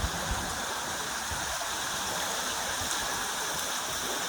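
Waterfall feature spilling over a villa swimming pool, a steady broadband rush of falling water that stays loud and even throughout, with no talk over it.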